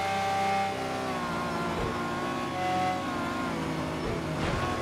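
A Ferrari race car engine in Project Cars 2 at Monza, a steady high-pitched roar that revs and shifts pitch, loud and close, with no talking.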